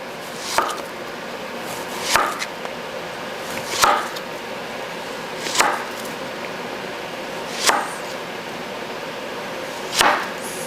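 A knife chops diagonally through food on a board in six evenly spaced strokes, each a crisp cut separated by quiet pauses, while preparing Cuban ropa vieja.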